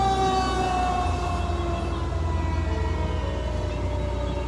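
A fire truck siren wails steadily and loudly nearby, its rising and falling tones drifting as the truck passes, with traffic rumble underneath and no talk.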